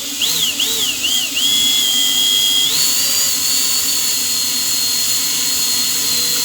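A small electric drill whines steadily at high pitch, rising and wavering at first before settling into a constant close drone.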